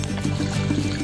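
Water rushes and gurgles steadily nearby in an irrigation canal, a continuous, fairly loud flow with low churning tones and no pauses.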